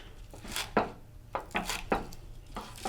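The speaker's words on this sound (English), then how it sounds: "Next, we'll use 2 green onions. And we're just going to roughly chop these." Green onions are chopped roughly with a knife on a cutting board, giving about seven or eight distinct close thuds in an uneven rhythm.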